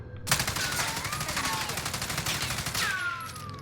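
An AUG rifle fires a continuous rapid burst in the Warzone video game, with loud, dense shots running for several seconds before stopping.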